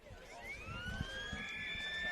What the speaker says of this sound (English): So there's a siren.